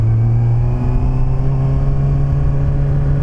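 Kawasaki Ninja ZX-6R 636 motorcycle engine revving steadily as the throttle is pulled on a road ride, a loud, close, continuous tone holding near one pitch and rising slightly, with no talking.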